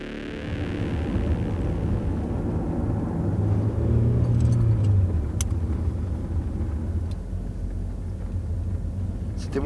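A car accelerates hard at full throttle as it speeds away, a loud low engine roar swelling and holding steady, close by, with a voice briefly over it at the start.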